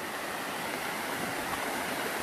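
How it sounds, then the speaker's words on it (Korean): Silpokpo, a thin thread waterfall, pours with a steady, even rush of falling water, faint and unbroken and with no other sounds over it. "아홉 번째 폭포, 실폭포."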